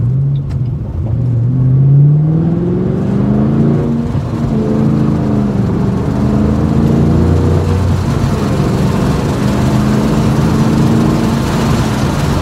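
A 2007 Ford Mustang GT revs hard through an acceleration pull, its loud engine note rising in pitch, dropping briefly at a gear change and then climbing again, with a steady rumble underneath.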